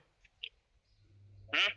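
A loud, raspy duck quack near the end, preceded by a couple of faint short sounds over a low rumbling background.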